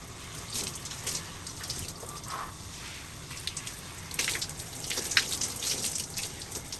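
Water running and splashing while conditioner is rinsed out of curly hair, a steady close watery patter with scattered drips and louder gushes toward the end, with no voices.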